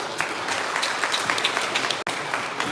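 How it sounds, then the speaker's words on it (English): An audience at a startup accelerator demo day claps in steady, even applause, a dense wash of many hands that continues throughout before a brief break near the end. "Round of applause for all of them"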